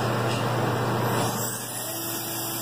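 A Fanuc Robodrill T21iD machining center spindle spins at 20,000 RPM, holding a steady, fairly quiet whine with constant tones over a continuous mechanical hum and no talk.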